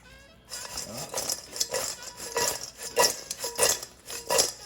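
Air-fried french fries from a Ninja Foodi Grill are tossed with parmesan and parsley, making rhythmic bursts of rustling clatter against the bowl, close and moderately loud, with a brief voice near the start.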